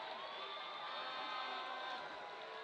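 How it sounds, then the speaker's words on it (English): A crowd cheers at the Borneo Sevens 2023 women's gold final rugby match between Eagles NZ 7s and Kazakhstan, a steady distant roar of voices that holds for a few seconds. "the crowd here is pumped"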